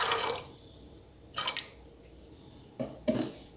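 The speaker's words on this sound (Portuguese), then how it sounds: "Olha, tá aqui na panela, vamos colocar um pouco, acrescentar água." Water splashes into a pan of pigeon peas in a few separate short pours, with quiet gaps between them.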